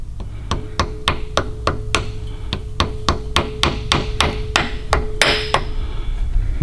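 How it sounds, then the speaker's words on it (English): Sharp metallic hammer blows strike in a steady rhythm, about a dozen evenly spaced hits, loud and close over a low background hum, driving a part flush while fitting Wilwood brakes to a Datsun 280ZX. "You said hammer on it a little bit?"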